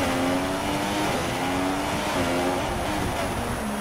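A Formula 1 car engine in F1 2016 at Monaco roars steadily down the pit straight, with the pitch stepping up through gear changes in a loud, continuous drone without a break.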